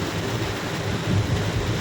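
Heavy rain pours during a drive in Chittagong, a steady dense wash of broadband noise with a low rumble, continuous and fairly loud throughout with no talking.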